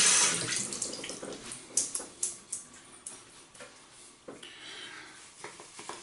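Water from a tap runs to wet a shaving brush, a soft steady trickle with light splashes and a series of quick taps and drips, close and fairly quiet, with no talking.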